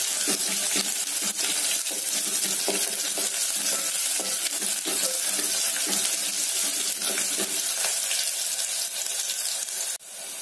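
Curry leaves and small shallots frying in hot oil for a Tamil buttermilk curry, giving a steady, loud crackling sizzle throughout with scattered sharp pops.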